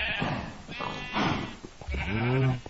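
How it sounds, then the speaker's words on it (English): Sheep in a blocky sandbox video game's animal farm bleat several times in a row, close and clear, with short pauses between the bleats and a longer final baa. "I dyed the sheep, so now we have rainbow sheep"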